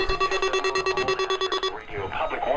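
An Emergency Alert System required weekly test sounds as a loud, rapid pulsing electronic attention tone with steady beeps, then breaks off into a burst of indistinct broadcast voice or noise.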